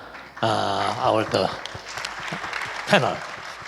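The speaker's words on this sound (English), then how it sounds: "please give a round of applause again" An audience at a business forum panel discussion applauds the panelists, a soft wash of clapping running under a host's amplified voice as he speaks over it.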